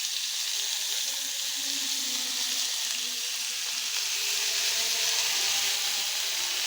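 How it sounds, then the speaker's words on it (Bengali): Bitter gourd pieces fry in hot oil with a steady, even sizzle and fine crackle that holds at a constant level throughout, close up and with no talking. "তৈলটা গরম হয়ে এসেছে, দিয়ে দিচ্ছি আমি সেই আমার মাখানো করলাগুলো।"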